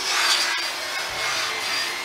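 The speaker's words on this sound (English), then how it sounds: "descaling the chassis, and this way we can get it completely smooth so I can spray it" Descaling the chassis of a 1957 Chevy Bel Air convertible, a harsh continuous abrasive scraping and rubbing heard up close, steady with a brief sharp tick partway through, and no talking.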